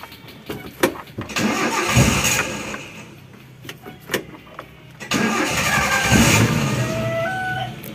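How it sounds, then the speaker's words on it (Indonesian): A car engine cranks and catches, a sharp burst of starter noise that settles into a loud, steady idle close by, with a few clicks and clunks just before it starts. "Kita hidupkan dulu mesinnya."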